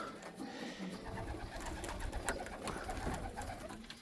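Young racing pigeons coo in a new loft. Soft, overlapping coos and rustling go on all the way through, close but faint.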